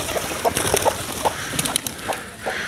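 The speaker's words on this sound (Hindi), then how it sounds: "और ये मुर्गियाँ और कबूतर ये देखें कितने प्यारे लग रहे हैं।" Village chickens cluck in short, scattered bursts at close range, against a faint background hiss, with pigeons kept nearby.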